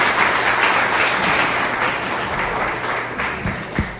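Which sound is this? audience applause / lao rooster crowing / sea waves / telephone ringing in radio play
audience applause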